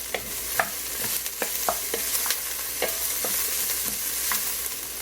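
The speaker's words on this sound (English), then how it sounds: "I'm just gonna let these saute until I can kind of start to smell them" Garlic and caraway seeds sauté in a pot with a dense, continuous close-up sizzle, broken by frequent spoon stirs and soft scraping taps against the pot.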